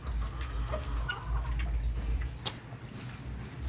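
Chicks cluck softly while being fed, heard as faint, scattered calls over a low background rumble, with one sharp knock near the end.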